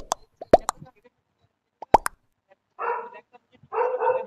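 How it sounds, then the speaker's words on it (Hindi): After a few scattered clicks and plopping taps, a dog gives two barks near the end, moderately loud and close, about a second apart. "भाई ये कुत्ता भौंक रहा है"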